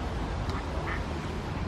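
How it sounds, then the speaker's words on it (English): Ducks quack at a pond where pigeons and gulls also gather, a couple of short calls half-buried in heavy wind and outdoor noise. "here they've got all the ducks and pigeons and gulls"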